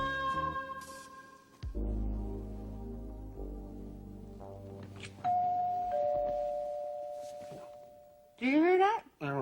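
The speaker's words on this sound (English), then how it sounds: "you mean like a doorbell, maybe? Yeah, the doorbell." A two-tone chime rings out midway, followed by a sustained tone, with thumps and shuffling sounds around it and a brief warbling burst near the end.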